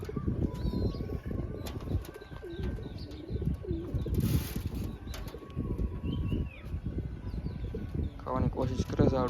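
Young pigeons in a coop flap their wings in brief bursts as they try to fly, with soft cooing and chirps from other pigeons around them and someone talking over the top.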